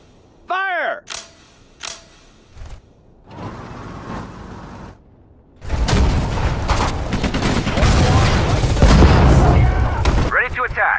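Gunfire and explosions from a Sudden Strike 4 battle as Allied infantry fight a tank: a few sharp isolated shots and booms, then a loud, dense, continuous fusillade of rifle fire and blasts, with brief game voice lines mixed in.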